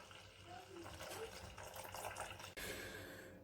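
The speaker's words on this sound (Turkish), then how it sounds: "Evet unumuzun içine 750 milim suyumuzu boşaltıyoruz." Water, about 750 ml, being poured into flour for Ramadan pide dough, a faint continuous gushing trickle up close, briefly interrupted midway and then resuming, with no talking.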